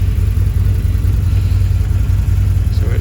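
Car engine running close by inside an enclosed track-day car, a loud continuous low rumble and drone with a slight rise in revs, no speech.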